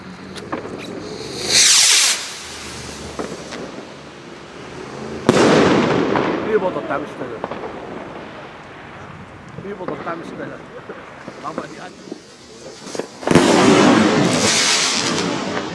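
Firework rockets from a Weco rocket set launch outdoors, with sharp whooshing bursts near the start, middle and end and crackling pops between, mixed with wind noise and occasional voices.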